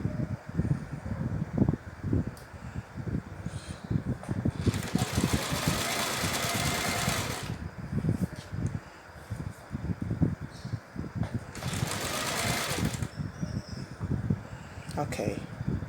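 A sewing machine stitches down a pillowcase seam in two bursts of steady whirring, each lasting a few seconds, with a person talking in between and over the quieter handling sounds.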